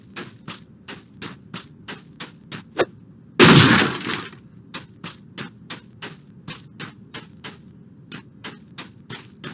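Objects smashed in the Dungeons and Dragons Online fantasy role-playing game: a single loud breaking crash with shattering debris, set against a steady run of evenly spaced clicking taps throughout.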